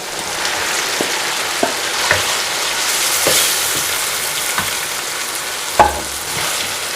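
Potato cubes and capsicum stirred while frying in a pan, a loud continuous sizzle with occasional spoon knocks and scrapes against the pan.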